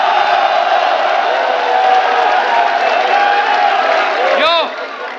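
A large crowd at a live rap battle event roars and cheers continuously, a dense sustained wall of shouting, with a performer's voice shouting over it before the noise drops slightly at the end.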